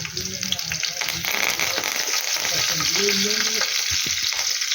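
Green chillies and curry leaves sizzling in hot oil while being stirred, a close, loud crackling fry with scraping stir strokes throughout.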